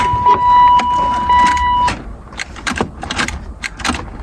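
Keys jangle in the ignition of a neglected BMW Z3 roadster as it is cranked, with a steady chime tone, then a run of sharp clicks and rattles; loud and close, with no talk.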